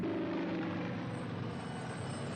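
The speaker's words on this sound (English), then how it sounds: "More helicopters!" Helicopter flying low overhead in a classic Doctor Who episode, The Ambassadors of Death, a steady, loud rotor and engine drone filling the whole stretch with no talk.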